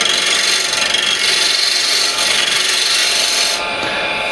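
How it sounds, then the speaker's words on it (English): A 12 mm spindle gouge cuts wood on a lathe spinning at 1400 RPM, giving a steady, loud hissing scrape that runs continuously up close and eases slightly near the end. "Spindle gouge, this is 12 mil diameter."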